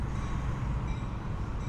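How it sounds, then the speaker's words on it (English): Metra commuter train in downtown Mount Prospect, a steady low rumble of rolling rail cars filling the scene, continuous and fairly loud with no voices. "looking at a Metra train that will take you downtown"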